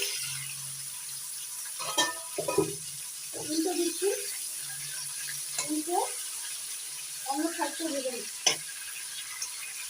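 Pieces of catla fish fry in a pan as the lid comes off, releasing a continuous bright sizzle with occasional stirring scrapes, while a voice talks intermittently over it.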